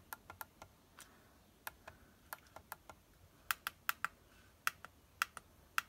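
Small keys clicking one at a time in an irregular rhythm, close and crisp, with brief pauses between presses and no talking.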